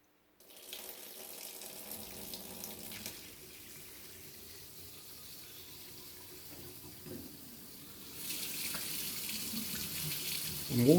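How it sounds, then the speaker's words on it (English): A Grohe Ambi kitchen mixer tap runs steadily, water splashing into a sink, growing louder and brighter toward the end. "water flow from them is lovely and easily adjustable"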